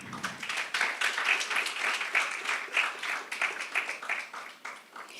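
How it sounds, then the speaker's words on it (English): An audience applauds at the launch event for a flagship report, many hands clapping in a lively, uneven patter that stays fairly close and sustained throughout. "Yes, a round of applause for him."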